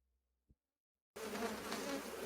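Silence broken by a faint tap, then a loud, dense buzz of honey bees on an open hive frame of brood sets in abruptly and holds steady, like many bees swarming close by.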